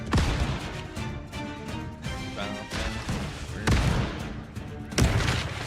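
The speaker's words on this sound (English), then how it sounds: "Ship destroyed. And it went boom." A ship blowing up in the PC pirate city-builder game Corsair Cove: several heavy, booming blasts burst out over a continuous bed of game sound, with the loudest hits near the start, middle and end.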